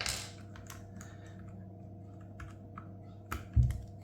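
Typing on a mechanical keyboard fitted with tactile Budgerigar switches, heard as a sparse, quiet scatter of clicky keystrokes over a low background hum, ending in a slightly louder clack or two.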